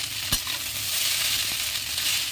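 Egg chowmein frying in a pan gives a steady, close sizzle with a single sharp clink near the start and a softer tap later, no voices.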